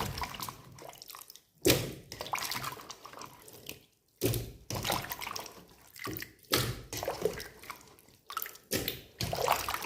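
Cut potatoes for french fries rinsed in a basin of water at home, with irregular splashing, sloshing and dripping bursts separated by brief quiet gaps, close and fairly loud.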